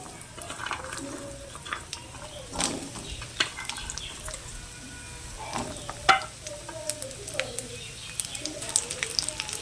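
Jackfruit seeds fry in hot mustard oil with a faint, soft sizzle, scattered clinks and scrapes of stirring, and occasional quiet voices in the background.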